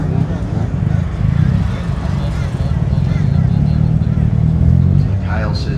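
An old-school Mazda RX3 drag car with a naturally aspirated 13B rotary engine at a drag racing meet in Brisbane. Its loud, steady low drone runs throughout under continuous commentator talk.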